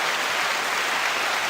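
A crowd applauds in a dense, even wash of clapping that holds steady throughout at moderate loudness, with no speech over it.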